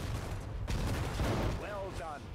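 Continuous battlefield gunfire from the World War II strategy game Sudden Strike 4, set in the D-Day Normandy landings, a dense rolling fusillade with a sharp burst near the start, beneath shouted voice lines and brief tonal calls.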